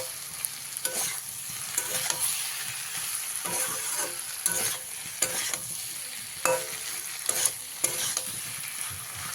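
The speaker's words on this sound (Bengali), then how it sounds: "এবারে সবজিটাকে খুব ভালো করে ভেজে নিতে হবে" Pumpkin and potato fry with tomato and split green chillies in a pan for a panch phoron vegetarian curry: a steady close sizzle broken by repeated spatula scrapes and stirs, with no talking.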